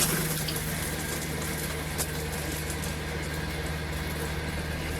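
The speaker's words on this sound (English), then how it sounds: "We'll take our shower head, drop it down into the shower, and we're going to turn her hot" Hot water mixed with pink antifreeze flows from an RV shower head dropped into the shower, a steady hissing rush of spray that continues evenly and fairly close, with a low pump hum underneath and no voices.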